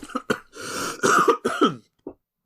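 A person coughs and clears their throat several times in quick succession, harsh and close, with short pauses between bursts.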